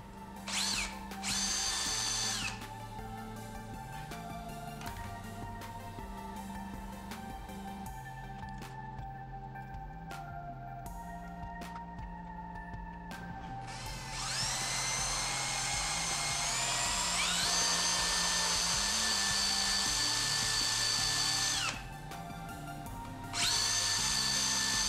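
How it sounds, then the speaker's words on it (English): Power grinder whining steadily while grinding down a mounting screw during an SX500 48v 1800w motor upgrade, close and continuous, pitch rising as the load eases and dropping under pressure. "I just ground it down with my grinder."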